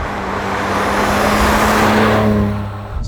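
A modified Nissan R34 GT-R drives on a road, its engine a steady loud drone with a rising tonal whine as it accelerates, then easing off near the end, heard from inside with no talk.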